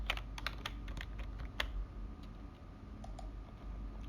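Typing on a computer keyboard while entering a drafting command in AutoCAD: a run of light key clicks, denser at first and sparser later, steady and fairly close over a soft background hum.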